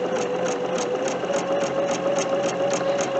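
A Bernina sewing machine with a 37D foot stitches patchwork at steady speed, its needle ticking in a fast, even rhythm over a constant motor whine, close and moderately loud.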